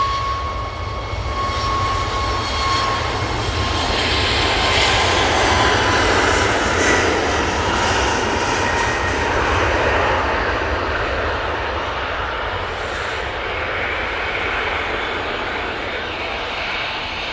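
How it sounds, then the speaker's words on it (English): A Ryanair Boeing 737 MAX 8 jet at Manchester Airport roars through its takeoff roll, a loud, broad engine rumble that swells and holds steady for a long stretch, then eases slightly as it pulls away. "Ryanair on the roll."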